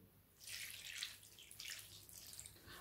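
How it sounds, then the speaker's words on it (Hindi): Half a cup of water is poured into a pot of spinach in a continuous, splashy stream, fairly quiet and close, with no voices. "अब हम इसमें डालेंगे 1/2 कप पानी।"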